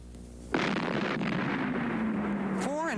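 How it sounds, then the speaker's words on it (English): An ammonium nitrate fuel oil blast on a rock cliff, four and a half tons of explosive, erupts as a sudden loud boom and then a long rumbling roar of falling rock, with a voice briefly rising near the end. "Four and a half tons of ammonium nitrate were used in blasting away this rock cliff."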